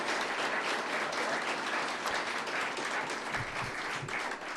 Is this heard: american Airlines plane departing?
no